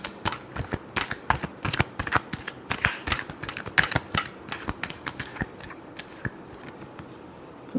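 A deck of tarot cards is shuffled again and again in quick, crisp riffles, a dense run of close, sharp card flutters and taps with no voices.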